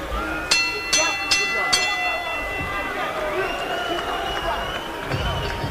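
At the end of a round, a boxing arena crowd murmurs and cheers under commentary, after four sharp ding-like bell strikes in a quick series near the start.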